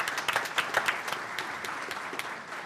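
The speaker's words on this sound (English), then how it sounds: "Give her a round of applause for being here tonight." Applause for a councilwoman at a school board meeting, a modest round of clapping from the audience with a few sharper individual claps standing out, steady and fairly distant, with no talk over it.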